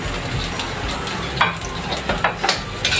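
Onions tossed into a hot pan and stirred as they fry, a loud continuous sizzle broken by scraping stir strokes and clatter, with no voices.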